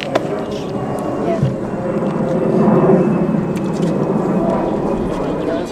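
An airplane passes overhead at an outdoor gathering, its broad low roar swelling and holding steady for several seconds while people talk beneath it.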